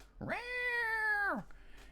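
A human voice imitates a traditional cat meow, a single drawn-out nasal call lasting about a second, close and clear against a quiet background.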